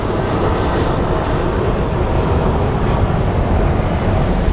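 A jet airliner roaring as it departs Phoenix Sky Harbor airport, a loud, steady broadband rumble and whoosh heard from nearby without letup.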